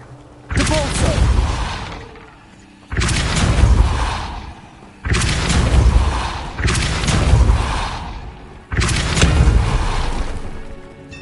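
Five forceful spell blasts in the Hogwarts Legacy video game, each a loud booming whoosh with a rumbling tail, spaced about two seconds apart, near and dominant.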